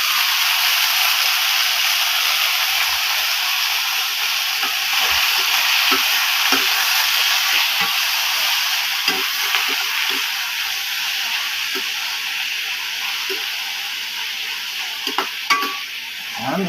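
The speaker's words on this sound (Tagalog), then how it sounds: "Magigisa tayo ng munggo." Mung beans sauté in a hot pan with a steady, loud sizzle and hiss, broken by occasional scrapes and clinks of stirring.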